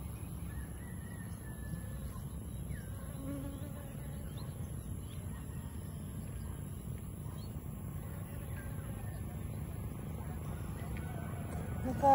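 Many honeybees sip nectar from flowers outdoors on a Sunday morning, making a steady low buzz throughout, with faint bird calls now and then in the background.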